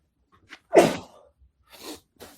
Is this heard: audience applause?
no